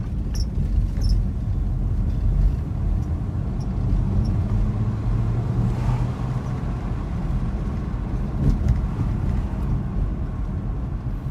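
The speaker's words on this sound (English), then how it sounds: "any of the rattling and squeaking, that is, I've got my sunglasses up in the center storage on the ceiling." Interior road noise in a Nissan sports car driving over cracked, potholed Pittsburgh streets, a steady loud low rumble with light rattles and squeaks from sunglasses in the ceiling storage.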